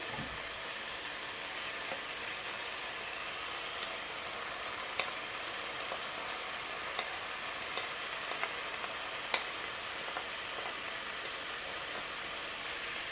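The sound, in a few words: peppers and carrot frying with minced meat in pan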